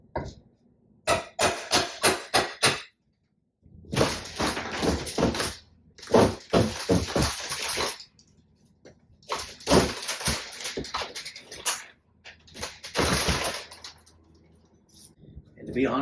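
Old window framing on an older house is pried and torn apart in irregular bursts of cracking, knocking and scraping, separated by quiet gaps, with a voice talking at times.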